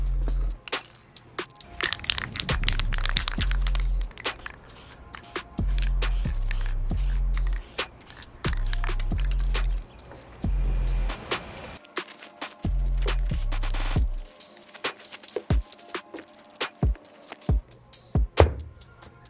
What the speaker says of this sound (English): go outside and spray some matte finish